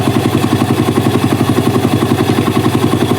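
A motorcycle engine idles close and steady with a regular pulsing throb throughout, on a bike fitted with a replacement enhanced rectifier regulator.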